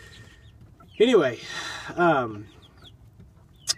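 A backyard chicken clucks inside its coop, giving two loud, squawking clucks about a second apart, with a person speaking briefly.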